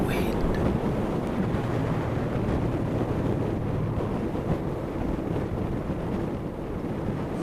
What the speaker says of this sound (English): Strong side wind.